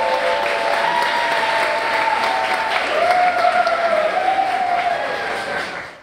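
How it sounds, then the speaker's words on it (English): A conference audience applauds steadily and loudly throughout, a dense continuous clapping that holds level before fading out near the end, with a few whoops rising above it. "Start applauding for SaraAnn. Don't stop until she starts talking."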